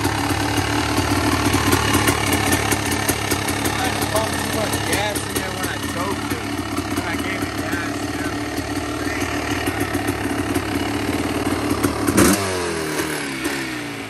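A restored Kawasaki KX500 dirt bike engine runs nearby with a steady, rough idle and knocking rumble, then briefly revs up before settling near the end.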